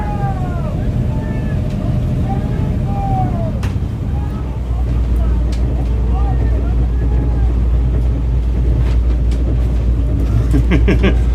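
Steady low engine rumble and wind buffeting of a boat moving on the water at Yaletown, Vancouver, with voices talking over it and occasional splashes.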